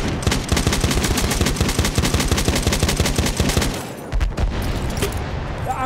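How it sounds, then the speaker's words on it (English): Rapid machine gun fire in the Battlefield 1 video game, loud sustained bursts of evenly spaced shots that stop briefly and then return as scattered heavy shots. "Enemy machine gun over there!"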